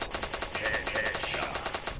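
Rapid automatic gunfire rattles in the Stickman Gun video game, a loud, dense stream of shots firing continuously without pause.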